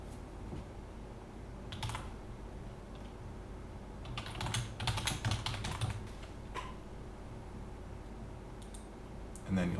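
Quiet clicking of keys while typing on a keyboard, coming in scattered short bursts with a denser flurry midway, close and soft beneath a low room hum.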